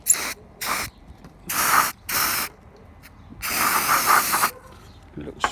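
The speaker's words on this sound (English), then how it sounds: "So, get brake cleaner." Brake cleaner sprays from an aerosol can in several sharp hissing bursts of varying length, close and loud, with short pauses between them while working on RC car tires.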